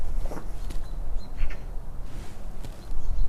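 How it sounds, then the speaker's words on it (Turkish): Birds call outside a balcony by a forest in Kumköy, Kilyos; several faint, brief chirps come from a distance over a steady outdoor rumble, with no talk. "Kuş seslerini duyuyor musunuz?"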